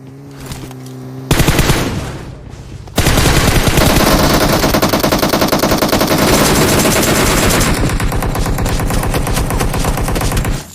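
Automatic gunfire in a battle royale video game crackles in long, rapid, loud bursts, a brief volley first and then a sustained rattling stream, with no talk over it.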